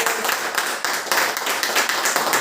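A crowd claps to welcome shop owner Varinder Singh at a Happy Health India shop event, with dense, steady clapping carrying through the whole moment at fairly close range.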